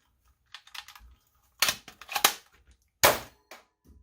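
A modified X-Shot toy blaster, rechambered for mega darts with a stock spring and a bored-out CPVC barrel, fires several sharp close snapping shots in quick bursts with short pauses between.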